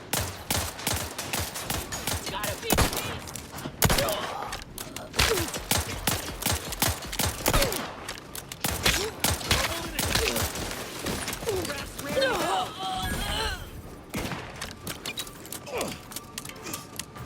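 Gunfire in The Outer Worlds 2 video game, many sharp close shots in irregular bursts and volleys over about seventeen seconds, with a voice talking at times between the shots.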